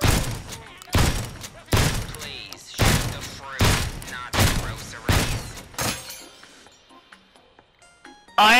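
Gunshots hitting fruit in Shooty Fruity, seven loud evenly spaced blasts about a second apart with splattering, breaking impacts, then a quieter stretch of small clicks and rattles and a final sharp burst at the end.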